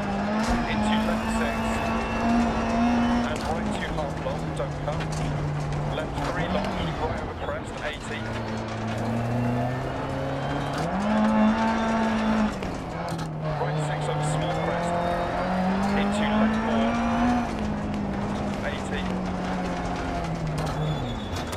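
A rally car in the racing video game DiRT Rally, its engine droning and shifting pitch as it climbs and drops through the gears, loud and steady, with tyre scrabble the whole way.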